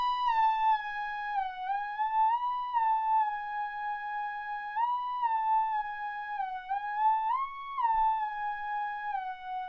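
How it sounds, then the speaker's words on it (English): A bright West Coast hip-hop style synthesizer lead plays a slow melody alone, its sustained notes gliding smoothly up and down between pitches. "In this beat, I just use like a classic West Coast lead"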